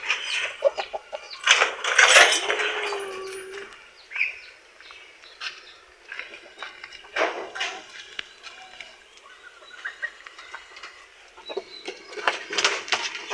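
Plymouth Rock and Rhode Island chickens cluck on and off at close range, with short calls and one drawn-out squawk early on, over a quiet background.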